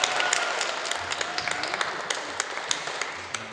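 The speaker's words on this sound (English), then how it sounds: "Round of applause for both candidates, please." A student election debate audience applauds both candidates, many hands clapping in a dense, sustained burst with a few sharper individual claps standing out, fairly close and loud and continuing evenly without talk.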